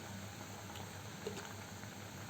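A pot of mackerel and mango curry bubbles at a steady, low simmer, a soft continuous boil with no voices.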